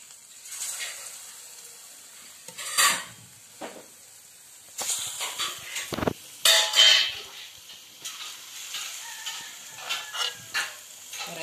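Kerala-style pazhampori batter of ripe banana dropped by spoon into hot oil, giving intermittent close hissing and sizzling bursts with crackles, rising and fading over a quieter background.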